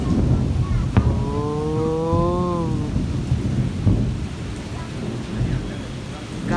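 Heavy rain pours steadily and loudly while thunder rumbles low beneath it, with a tonal whine rising briefly near the start.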